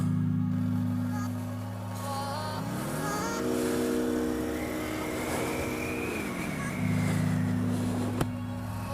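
A 2019 Honda NC750X DCT motorcycle in sport mode hums at a steady engine note close by, the revs climbing smoothly for a few seconds, then settling back down, with no voices.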